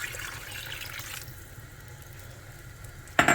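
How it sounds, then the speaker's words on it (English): Beef broth made with Worcestershire sauce pours into a pot, a soft liquid splashing stream for about a second, then a quieter trickle and a brief clatter at the end. "Add more broth."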